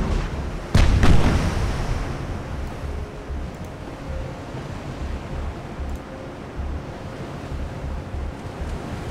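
A naval gun fires once in an 1897 pre-dreadnought battle between Italy and Austria-Hungary in Ultimate Admiral Dreadnoughts, a sharp loud report followed by a rolling rumble over steady sea wash and wind.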